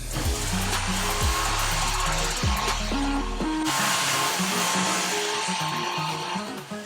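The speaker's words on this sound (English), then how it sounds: "this is my mini desk vacuum, and it actually works so well" A small mini desk vacuum motor whirs at high pitch, a shrill buzzing hum with a few changes in tone, then it keeps running steadily on its own.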